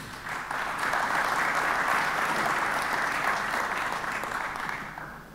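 Audience at a CEO forum roundtable bursts into steady, sustained applause from many hands, filling the room evenly for several seconds before tapering off.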